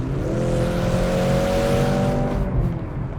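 Mercedes-AMG C63 S engine roaring with a digitally augmented note, a loud steady droning rev held for about two and a half seconds before easing off, heard alone without talk.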